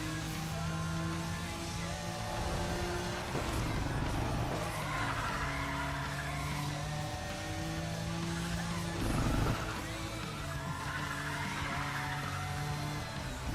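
A car engine in the racing game Need for Speed ProStreet drones steadily and loudly throughout, with its pitch shifting a couple of times as the revs change.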